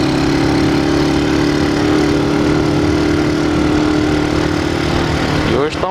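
A Honda CG 99 motorcycle engine with a strange noise in its motor runs at a steady idle, a constant droning hum with a rough mechanical edge, close and loud, settling slightly toward the end.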